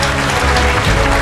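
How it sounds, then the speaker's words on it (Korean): A church congregation claps in steady, dense applause to welcome a pastor at a missionary conference in London. The clapping is loud and close and carries no speech. "우리 사랑하는 마음으로, 환영하는 마음으로 우리 목사님 박수로, 큰 박수로 모시겠습니다."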